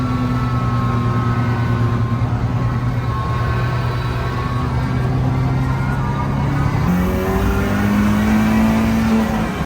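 A car engine revs hard while driving, a rising, sustained roar with shifting pitch that climbs and drops near a gear change, loud and continuous with no talking.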